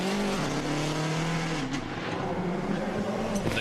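WRC rally cars on the Monte Carlo superspecial stage roar past with high-revving engines, shifting pitch as they brake and accelerate, plus short tire squeals, loud and close.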